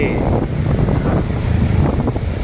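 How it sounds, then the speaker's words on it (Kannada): A river in full flood near Srinivasapura roars with continuous rushing water, while strong wind buffets the microphone; steady, loud and unbroken, with no voices. "ಹೊಳೆ ಇಷ್ಟೊಂದು ಬೃಹದಾಕಾರವಾಗಿ ತುಂಬಿ ಹರಿಯುತ್ತಿದೆ"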